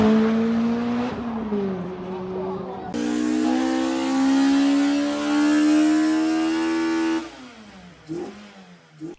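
A Lotus Elise with a 2ZZ engine revs hard and close, its harsh tone climbing and dropping through several surges before cutting off, then a couple of short blips follow.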